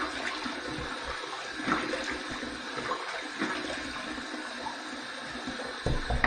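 Tap water runs steadily and fairly softly in a cabin bathroom while the face is wetted before a shave. The hiss of water continues with a few small splashes and no talk.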